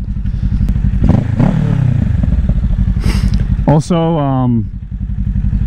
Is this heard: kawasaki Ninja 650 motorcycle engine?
yes